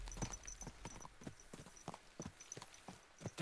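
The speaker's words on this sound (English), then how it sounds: "Let's really spur these horses on, eh?" Horse hooves in Kingdom Come: Deliverance clop along in a steady, rapid rhythm, a dense run of sharp close hits at a fast pace.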